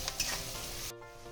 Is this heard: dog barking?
no